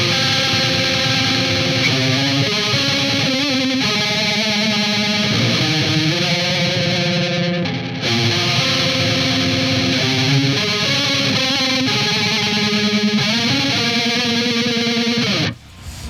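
Electric guitar played live through an effects pedal with speed and drive turned up high, giving a dense, distorted, warbling wash of chords and notes for about fifteen seconds before cutting off abruptly.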